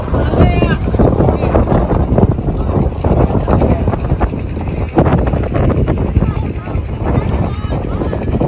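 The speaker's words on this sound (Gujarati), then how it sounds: "ફૂલ પવન છે, તમે જોઈ શકો છો ઉડી રહ્યું છે" Strong wind blasting across an open beach, steady and loud throughout with heavy buffeting rumble on the microphone, while people talk underneath.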